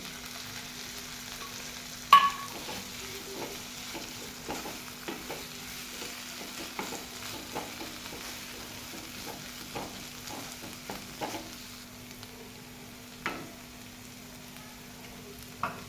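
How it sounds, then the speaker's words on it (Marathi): Pavta bean pods and dried prawns sizzle quietly in a pan, with soft scattered clinks and scrapes of stirring and one sharper knock near the start. "आता आपण याच्यामध्ये पावट्याच्या शेंगा टाकून घेऊ"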